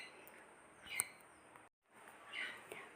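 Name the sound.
lovebirds chirping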